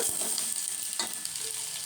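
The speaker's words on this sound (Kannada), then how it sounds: "ತೊಂಡೆಕಾಯಿ ಹಾಕಿದ್ದೀನಿ ಒಗ್ಗರಣೆಗೆ. ಅದು ಸ್ವಲ್ಪ ಎಣ್ಣೆಯಲ್ಲಿ ಫ್ರೈ ಆಗ್ತಾಯಿದೆ." Sliced ivy gourd (tondekai) sizzles steadily in hot oil with onion for a gravy tempering, a continuous close crackling hiss with occasional stirring scrapes, no voices.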